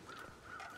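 A single crow caws faintly in the distance in the video game The Long Dark, a short hoarse call with nothing else around it.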